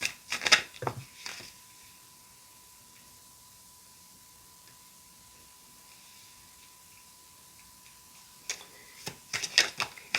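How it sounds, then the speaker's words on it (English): A tarot card deck being shuffled, with quick bursts of riffling and card clicks near the start and again at the end, separated by a long quiet stretch with a faint steady hum. "I'm going to shuffle a little bit more."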